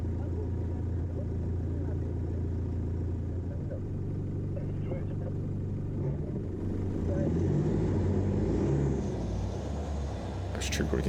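A car drives over sand dunes at Sandwich Harbour in Namibia, its engine a steady, loud low rumble with rising strain toward the end, while a person talks over it.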